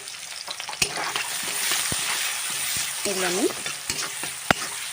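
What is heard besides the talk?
chopped onion frying in oil in a wok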